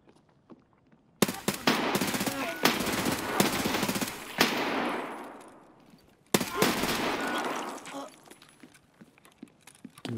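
Loud automatic gunfire in Escape From Tarkov rips out in long sustained bursts, a first string of shots fading into a short gap before a second close, heavy volley.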